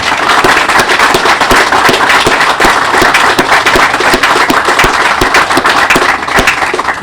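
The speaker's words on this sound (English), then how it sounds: "now's a good time for a round of applause for the Ricciardi family" An audience breaks into a round of applause for the Ricciardi family, a loud, sustained wash of many hands clapping with sharp individual claps standing out throughout.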